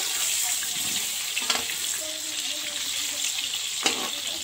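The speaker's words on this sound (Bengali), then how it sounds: "এখন আমার আলুটাকে আমি ভেজে নিই ভালো করে" Potatoes fry in hot oil in a home kitchen, a soft continuous sizzle with a couple of sharper clinks of a utensil against the pan, moderately close and without talk.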